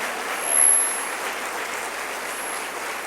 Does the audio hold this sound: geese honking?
no